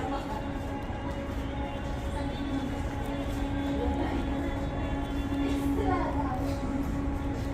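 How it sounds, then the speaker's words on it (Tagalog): An underground metro train in Riyadh pulls into the platform, a steady low rumble and rail hiss with a few brighter squeals partway through and faint voices underneath. "The next train to الدار البيضاء is approaching."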